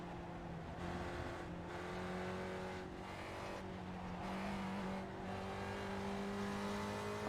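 Several Spec Racer Ford race cars in a virtual race at Lime Rock drone past with steady engine tones that rise and fall as they shift gears, a continuous pack of traffic heard alone.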